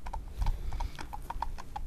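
A horse's hooves clip-clop in a quick, regular rhythm at close range, each strike sharp and distinct over a low rumble of outdoor background.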